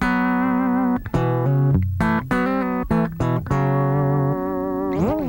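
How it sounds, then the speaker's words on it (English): Clean electric guitar plugged straight into a Roland VS-880EX recorder, playing a short melodic phrase of picked single notes with a bend at the end, close and clear with no talking. "then begin with the straight guitar sound"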